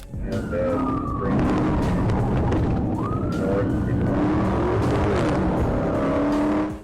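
A Dodge Challenger accelerating hard onto Interstate 20 West during a police chase, engine roaring through rising and falling revs alongside a wailing siren, loud and sustained, with faint voices underneath.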